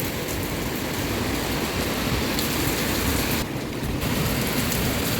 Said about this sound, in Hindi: बहुत तेज़ बादल गरजने की आवाज़ आ रही है।